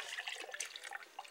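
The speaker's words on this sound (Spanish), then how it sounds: "Y ahora voy a poner el agüita." Water poured into a blender for a gastritis smoothie, a steady splashing trickle heard close up and alone for a moment, fairly quiet.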